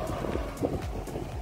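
Breezy wind outdoors at an inn in Pensacola, Florida, a steady low rushing buffeting the microphone, continuous and fairly faint, with no voices.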